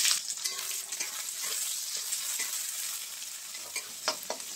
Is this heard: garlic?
yes